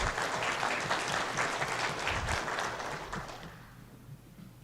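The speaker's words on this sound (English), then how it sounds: "I'd like to give her a round of applause" An audience at a candidates' run-off forum breaks into a round of applause, a few seconds of fairly distant clapping that thins out and fades away toward silence.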